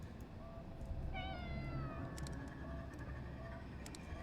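A cat in Conarium gives one drawn-out, wavering meow over a dull rumbling ambience, with a few faint clicks around it.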